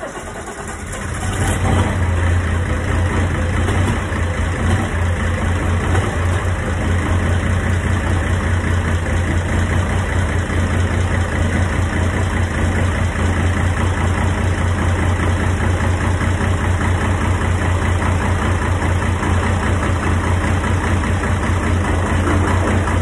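A farm tractor's cold engine cranks and catches, then settles into a loud, steady idle with a deep low rumble, slightly uneven as one or two cylinders misfire until it warms up.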